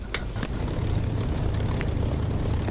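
Spitfire in the DCS flight simulator rolling for takeoff, a steady low propeller-engine drone that holds loud throughout with faint clicks on top.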